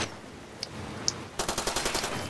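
A burst of rapid machine gun fire in the video game Far Cry 2, after a couple of faint isolated clicks, the shots coming in a quick regular stutter at moderate loudness.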